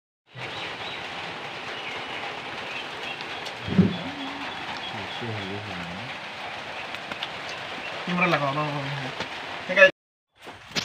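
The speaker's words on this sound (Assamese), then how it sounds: "একদম বাৰে বাৰে কেমেৰাত পানী পৰি আছে" Rainwater strikes a camera outdoors on a rainy day, a steady, close hiss of drops lasting nearly the whole stretch, with voices talking over it at times before a brief cut to silence.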